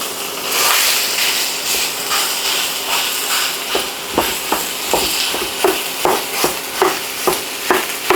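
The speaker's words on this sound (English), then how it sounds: "let's cook up our mincemeat first" Beef mince frying in a pan, a steady loud sizzle and hiss, then a regular series of scraping stirs toward the end, all without talk.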